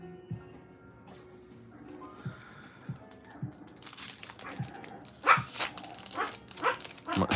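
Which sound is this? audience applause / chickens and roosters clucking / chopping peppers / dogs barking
dogs barking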